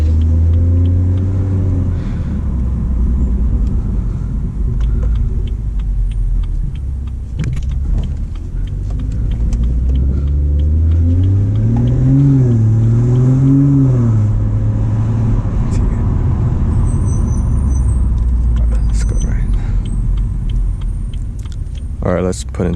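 Stage 2 BMW M240i with M Performance exhaust and downpipe cruising in city traffic, a steady loud engine drone with rising and falling revs under cabin rumble.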